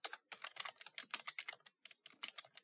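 Quick, irregular clatter of fingers typing text on a computer keyboard, bursts of close keystrokes broken by brief pauses, heard alone at low volume.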